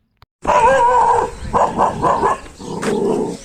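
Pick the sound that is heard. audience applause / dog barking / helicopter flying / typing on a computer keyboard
dog barking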